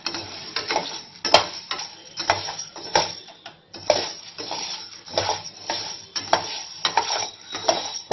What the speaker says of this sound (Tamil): உளுந்து வந்து நல்லா செவக்க வறுக்கணும்